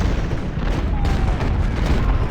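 Brigades open fire in woods during the 2nd Battle of Winchester in the video game Ultimate General: Civil War: dense, continuous crackling musketry with scattered booms rolls along at a steady, fairly loud level.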